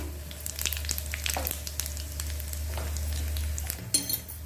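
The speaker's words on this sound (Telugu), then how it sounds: "ఇందులో కొంచెము జీలకర్ర ఆవాలు వేస్తున్నా" Cumin and mustard seeds sizzling in hot oil for a red chilli pickle tempering, a close steady crackling fry over a low hum, with scattered pops and a light clink of a utensil near the end.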